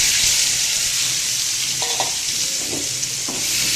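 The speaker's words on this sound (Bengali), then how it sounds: "এটাকে আমি আগে ভেজে নেব।" Bitter gourd slices frying in a pan, a bright continuous sizzle close up, with a few soft clinks and stirring scrapes near the middle and end.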